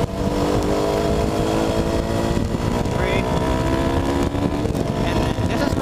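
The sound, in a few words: 200cc motorcycle engine accelerating at full throttle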